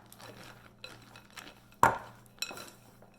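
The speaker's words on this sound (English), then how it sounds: "I'm just going to stir in the chocolate chips, or chunks in my case" A spoon stirs chocolate chunks through sourdough cookie dough in a bowl, making soft scraping sounds between several sharp clinks against the bowl, one louder knock in the middle.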